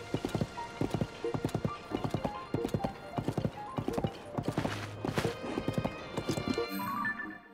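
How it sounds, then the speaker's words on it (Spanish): Horse hooves clip-clop at a steady, brisk rhythm in Zelda: Tears of the Kingdom, loud and close, easing off near the end. "Se tiene que poder llegar a caballo, obviamente."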